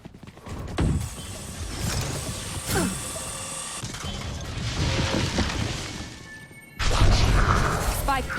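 Spike being planted in Valorant, a dense run of mechanical clicks, ratcheting and metallic clanks layered over game noise, steady and close, ending in a louder burst of activity.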